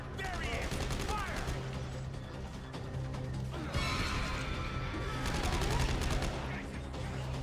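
Gunfire from soldiers in Dead Space 3 crackles in rapid volleys with crashing impacts, near and loud, in two heavy bursts, while voices shout over the fight.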